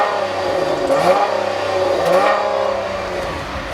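A 2014 Dodge Journey AWD with dual exhausts accelerating, its engine rising in a smooth steady drone with a couple of slight pitch shifts, heard fairly close and loud with no talking.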